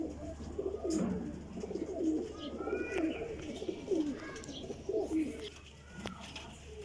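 Teddy golden pigeons coo in soft repeated low rolling calls, several overlapping and fairly close, over a steady background hum.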